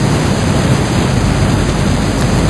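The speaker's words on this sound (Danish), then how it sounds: "Floden bruser, og støjen stiger hver gang båden nærmer sig et vandfald." Loud, continuous roar of rushing river water during rafting in Nepal, dense and steady throughout like a nearby river or waterfall, with no voices.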